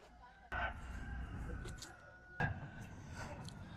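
Chickens cluck and a rooster crows in the background of an outdoor scene in Peru, with two sharp knocks standing out over a steady low rumble.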